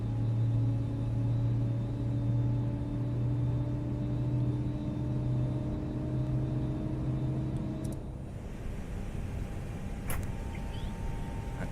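ToLiss A321 jet with IAE engines in X-Plane 11 spooling up, a steady rising whine and low rumble with strong tonal hum, then dropping to a softer background roar with a brief click.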